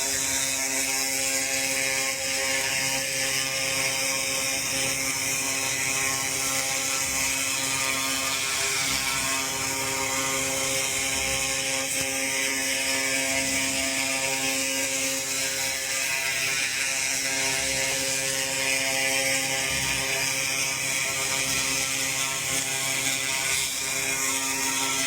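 A laser cleaner works on thick rust with a fan running alongside, making a constant, dense mechanical whir and hiss with a fine, rapid ticking texture that holds steady throughout.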